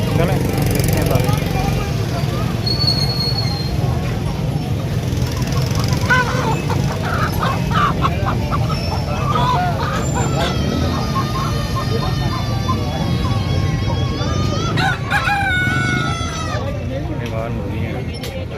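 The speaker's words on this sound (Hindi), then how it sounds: "माशाल्लाह जी, बड़ा मुर्गा है।" Roosters and hens cluck and crow amid the bustle of an outdoor Sunday bird market in Lahore. Several people talk over the birds while steady crowd noise fills the background.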